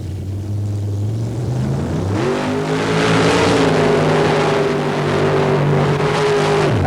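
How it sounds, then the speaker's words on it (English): A 605 cubic inch alcohol-injected, nitrous-fed Chevrolet V8 in a modified Jeep mud racer roars loudly at close range, its heavy rumbling tone climbing and holding high before dropping, with no talk over it. "This is an alcohol-injected nitrous oxide 605 cubic inch Chevrolet in the modified Jeep body."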